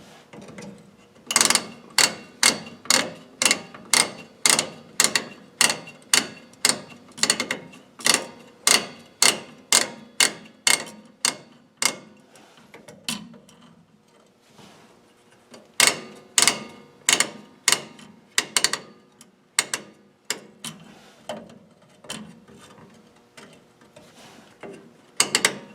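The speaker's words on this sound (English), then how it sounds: "adjusting the adjusting screw to widen it" A star-wheel adjusting screw on a dual-servo drum brake, likely a Ford, clicks as it is turned to spread the brake shoes, giving long runs of sharp, evenly spaced ratcheting clicks with a short pause midway, close up and without talk.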